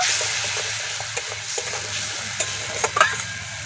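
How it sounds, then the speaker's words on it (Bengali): Mustard paste is stirred into simmering rohu fish curry gravy, a steady spoon scraping against the pot over a bubbling sizzle, with a few sharper clinks near the end and no talk. "সর্ষে বাটাটা ভালো করে মিশিয়ে নেব"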